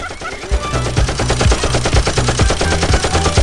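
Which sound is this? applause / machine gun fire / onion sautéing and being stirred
machine gun fire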